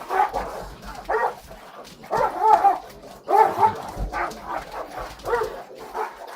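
A dog barks and yips repeatedly in short irregular bursts, fairly close, with some whining between barks.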